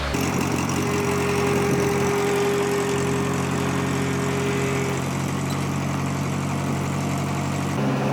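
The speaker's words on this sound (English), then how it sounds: "What we have here is a sweeper that was used originally as a walnut sweeper, but we found it works pretty well for chestnuts." An engine-driven nut sweeper, originally built for walnuts and used here to gather chestnuts, runs at a steady close idle with a constant droning hum that shifts slightly near the end.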